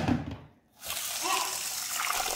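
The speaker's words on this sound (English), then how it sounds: "Then I pour about 500 mils of hot water into the brine mix" Hot water pours steadily into a salt, sugar and pepper brine mix for smoking tailor fish, a continuous close splashing stream after a brief pause.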